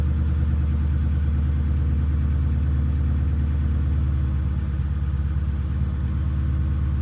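A 1996 Ford Thunderbird engine idles steadily, a continuous low rumble heard close and fairly loud with an even, unchanging rhythm and no voices.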